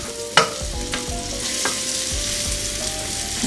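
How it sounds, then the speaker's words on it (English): Turmeric and mushrooms sizzle in a pan as a utensil stirs them, with a few sharp clacks against the pan over a continuous frying hiss. "Give it a little stirring"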